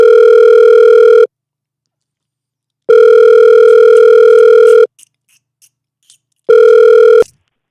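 Repeating electronic telephone tones on a call-in show's line as an incoming caller connects: three loud, steady buzzing bursts of a second or more, separated by silent gaps, with a few faint clicks between the last two.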